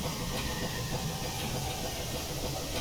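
Steady rumbling rail noise with a soft hiss of a GN Brooks 4-8-0 steam locomotive coasting without power in a train simulator game, continuous and fairly loud with no talking.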